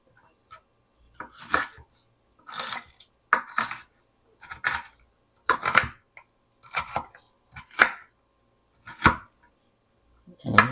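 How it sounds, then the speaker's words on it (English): A knife chopping an onion on a board, about nine crisp, evenly spaced bursts of cutting close by, each a short cluster of strokes with brief pauses between, no talking. "I get silent and do not look at the camera when I'm cutting."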